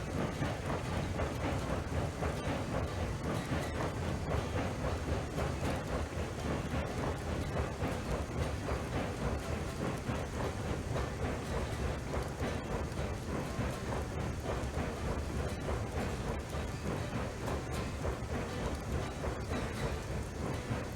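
The Eureka locomotive labors slowly up a grade with a train behind, a dense continuous rumble and clatter filling the whole stretch, loud and unchanging, with no voices.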